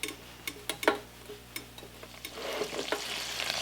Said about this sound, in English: So that's your butter melting there now